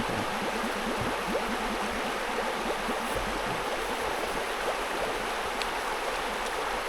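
Water scooped at a village water source, a steady wash of flowing, splashing water close by with no talking.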